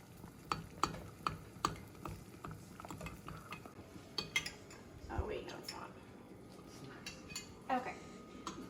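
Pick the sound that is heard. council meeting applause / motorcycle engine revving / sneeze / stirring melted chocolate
stirring melted chocolate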